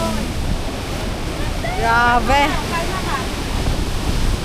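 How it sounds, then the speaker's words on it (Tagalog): Steady roar of ocean waves and surf with wind buffeting at Tung Lung Chau Island, Hong Kong, while a person exclaims briefly over the noise. "Paano kalmahin yung alon?"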